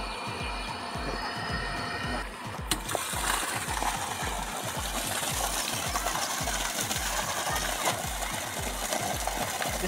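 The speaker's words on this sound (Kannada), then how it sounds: "ಇಷ್ಟು ನೀರು ಬೀಳ್ತಾ ಇದೆ ನೋಡಿ ಫ್ರೆಂಡ್ಸ್" A two-phase motor pump discharges water into a field through a pipe of about three inches, making fast, regular mechanical thumping over a constant rushing wash that stays loud and close throughout.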